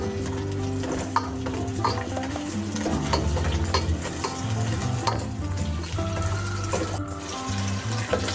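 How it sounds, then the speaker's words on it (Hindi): Onions sizzling in hot oil in a pan, a continuous loud frying hiss with stirring scrapes and light utensil clicks, no voices. "प्याज को फ्राई करूँगी"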